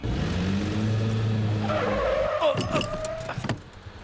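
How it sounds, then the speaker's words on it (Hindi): A car braking to a stop, engine drone giving way to a sharp tire squeal and skidding screech up close, followed by brief clunks and rattles as it halts. "गाड़ी क्यों रोकी?"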